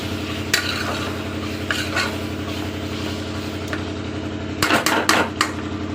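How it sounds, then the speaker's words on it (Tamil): Mutton masala for a kuzhambu sizzles loudly in a pan, with a steady fry underneath and several sharp scrapes and clinks of a ladle stirring near the end. "அரைச்சிட்டு நம்ம பண்ணும் போது அதுவே வந்து மேலே பட்டு பட்டுன்னு தெரிக்கும்"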